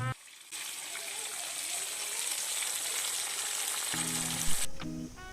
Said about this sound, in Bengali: দেখতেই পাচ্ছেন যে মাছগুলো খুব ভালোভাবে তেলে ভেজে নেওয়া হচ্ছে।